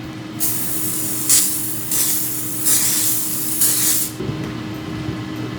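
Four short hissing sprays from an aerosol cooking oil can over Brussels sprouts, evenly spaced, close by over a steady low hum.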